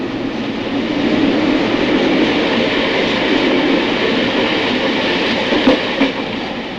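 A Paris RATP metro train runs steadily with a loud, continuous rumble and rushing noise, faint rhythmic clatter of wheels on track throughout, no voices.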